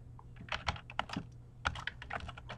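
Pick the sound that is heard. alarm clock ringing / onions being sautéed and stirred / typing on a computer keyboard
typing on a computer keyboard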